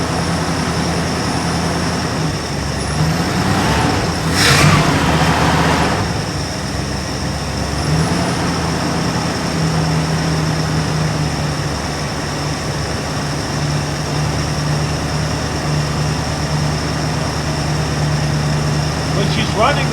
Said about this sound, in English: I feel like the idle's a little bit high.